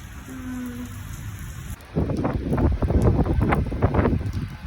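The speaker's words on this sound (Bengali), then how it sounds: "দারুণ বৃষ্টি হচ্ছে, দারুণ।" Rain falls in Kolkata with a loud, steady, gusty hiss that starts suddenly and grows heavier after a quieter opening, close to the microphone with no talking.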